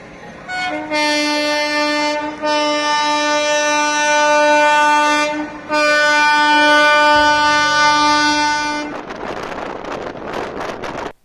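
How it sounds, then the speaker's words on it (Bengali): An express train pulls out of Howrah station and sounds its horn in long loud blasts with short breaks between them, then the horn stops and wheel and track noise rushes in close to the microphone. "আমাদের ট্রেন ঠিক সময় মতন হাওড়া স্টেশন থেকে ছেড়ে দিল"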